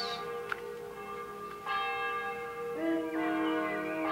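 Church bells ring out steadily with sustained overlapping tones and a few distinct strikes, growing fuller toward the end, heard alone without speech.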